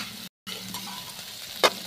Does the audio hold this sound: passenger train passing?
no